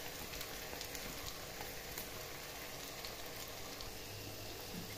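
Spiced chickpeas sizzle steadily in a frying pan after a splash of vinegar, a dense even crackle like rain that holds at one level, close by, with no talk.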